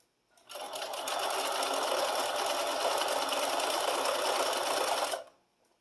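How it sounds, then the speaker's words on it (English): A sewing machine stitching binding onto a quilted holiday wall hanging runs in one steady, fast, even whir, starting up and stopping cleanly after about five seconds, close and alone. "Continue sewing."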